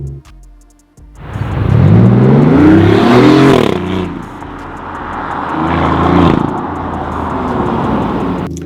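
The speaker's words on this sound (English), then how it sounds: "the Quicksilver Titan exhaust with Sound Architect" A BMW i8 fitted with a Quicksilver Titan exhaust revs hard and loud after a moment of quiet, its pitch rising and falling through one long rev before settling into a strong idle that swells again near the end.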